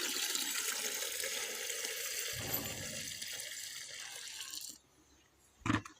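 Liquid banana disease spray being mixed into water, heard as a continuous rushing, splashing pour that stops abruptly, followed by near silence and a brief final splash.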